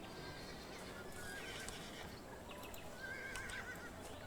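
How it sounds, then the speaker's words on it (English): A horse in the railway-building video game Station To Station whinnies twice, a thin, faint, drawn-out neigh over a quiet ambient bed, with light hoof clip-clop and no talking. "Look, we've got a horse."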